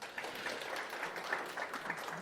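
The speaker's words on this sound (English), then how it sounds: "A round of applause for Peter." Audience at a conference talk gives a brief round of applause, a soft, steady patter of clapping from a room of people, fairly quiet and distant.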